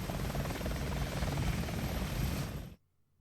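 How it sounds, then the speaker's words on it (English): A burning helicopter in the 2002 Shinobi video game gives off a steady, loud whirring rotor drone that holds evenly for nearly three seconds, then cuts off abruptly into near silence. "we are stood in front of a flaming helicopter"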